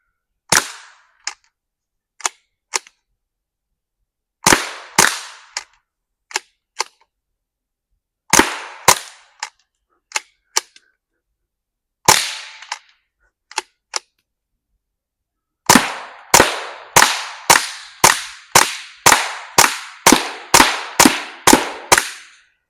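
Suppressed GSG Mauser .22lr rifle fired at a watermelon on a shooting range, sharp cracks spaced out at first, then a rapid string of about a dozen shots near the end, with silence between them.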